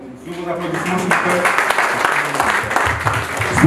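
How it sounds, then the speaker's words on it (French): Crowd applause at a political party gathering, building from quiet into a steady, dense clapping that continues to the end, with voices mixed underneath. "Sous vos applaudissements, s'il vous plaît."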